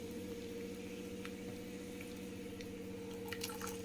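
Chopped onions fry in hot oil in a heated pan for homemade chicken fry, giving a quiet, steady sizzle with faint crackles over a constant kitchen hum.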